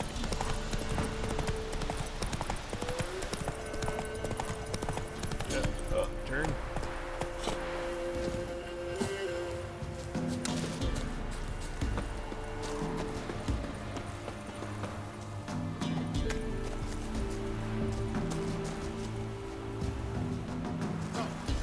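Roach, Geralt's horse in The Witcher 3, galloping with steady rhythmic hoofbeats that continue for the whole stretch over game music and ambient sound.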